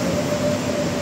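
A light rail (LRT) train rumbles at a busy station with a steady low roar and a sustained metallic whine. It is continuous and fairly loud, and no one speaks.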